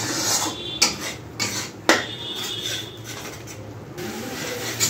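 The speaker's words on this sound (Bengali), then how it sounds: "আদা পেস্ট আর রসুন পেস্ট করে এটাকেও ভালোভাবে মিক্স করতে হবে।" A spoon stirs ginger and garlic paste in a cooking pot, producing scraping and rubbing strokes with several sharp metallic clinks against the pot, close and fairly loud.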